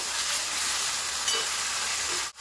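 Chicken for biryani sizzles and hisses steadily in a pot under a cover, a constant frying crackle with a brief clank near the end.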